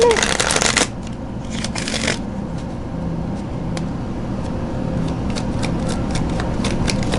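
Tarot cards are shuffled close up in several bright riffling bursts, loud at first and then thinner, intermittent flicks, over a steady low background rumble.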